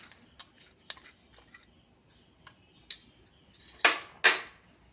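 A spoon clinks and taps against a bowl while rice batter with sugar is stirred for kallappam, irregular light knocks growing to two louder scrapes near the end.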